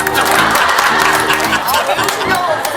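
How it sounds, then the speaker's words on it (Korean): Studio audience at a Korean TV variety show breaks into steady, loud applause and cheering, with hosts talking over the clapping throughout. "자 박수 한번 예. 주세요."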